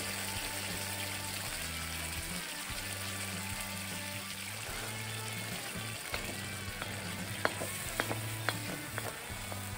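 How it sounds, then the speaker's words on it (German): Sauce with Black Tiger prawn tails bubbles and sizzles steadily in a pan, a continuous close simmer with a few sharper crackles and clicks toward the end. "Das muss jetzt schön vor sich hin köcheln."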